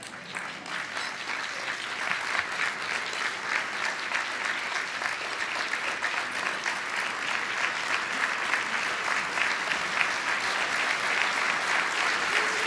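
Steady applause from a large luncheon audience at a Martin Luther King Jr. bar association event, dense clapping that holds at an even level without a break and builds slightly toward the end.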